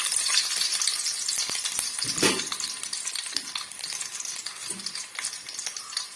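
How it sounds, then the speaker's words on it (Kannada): Mustard seeds and garlic sizzle and crackle in hot oil in a pan for a tempering, a steady close fry with a few stirring knocks and spatters. "ಬಾಣಲೆಗೆ ಎಣ್ಣೆ ಪಾಡೋಡು ಬೊಕ್ಕ ಸಾಸಣೆ ಪಾಡೋಡು ಒಗ್ಗರಣೆಗೆ"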